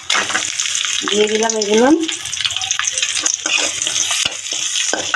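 Onion, green chili and garlic sizzle in fish oil with nigella seeds in a wok, a close, crackling fry running throughout while a voice speaks briefly over it.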